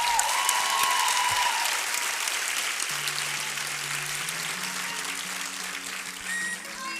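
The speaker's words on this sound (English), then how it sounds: "Please join me in giving her a huge round of applause." Graduation ceremony audience giving a big round of applause, dense sustained clapping across the hall for several seconds, tapering slightly near the end as a faint tone and voices emerge.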